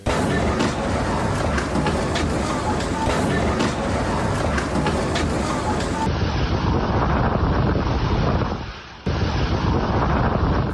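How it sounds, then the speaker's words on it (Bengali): Strong stormy wind blasting through the streets of Mecca, a loud continuous roar buffeting the microphone for the whole stretch, with a brief dip near the end before the gusting returns. "ঝোড়ো বাতাসে মক্কার সড়কে থাকা অনেক গাড়ি উড়ে যাওয়ার মতো পরিস্থিতি তৈরি হয়"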